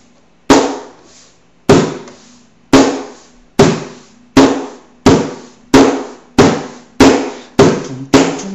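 Djembe beaten by hand in a beginner lesson, about ten sharp slaps spaced roughly a second apart, each strike loud, close and quickly decaying, with a low ring beneath, played alone without voice.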